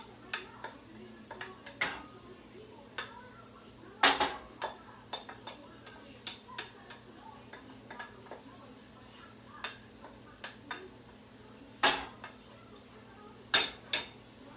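Cooked rice added to wilted spinach in a pan, a spoon clinking and scraping against the cookware in scattered sharp taps over a soft background hum, fairly close and moderately loud.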